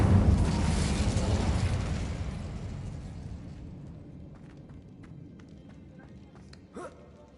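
An Incendio fire spell blast in Hogwarts Legacy: a loud, close burst of fiery rumble at the start that slowly fades into quiet game ambience, with a small pop near the end.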